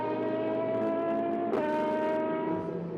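A Le Mans race car in 2025 running down the main straight, its engine a steady, buzzing, harmonic-rich drone that holds high revs and shifts slightly midway, loud throughout with no pause.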